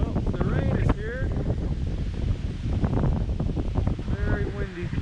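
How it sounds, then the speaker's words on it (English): Strong wind roars steadily and close in the video game Black Mesa, buffeting constantly during rain, while voices talk over it now and then. "Very windy."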